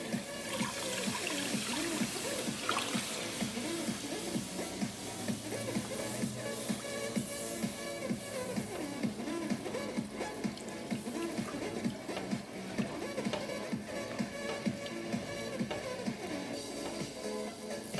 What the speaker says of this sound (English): Alright, so this is the milk, the coconut milk. I'm going to add it in.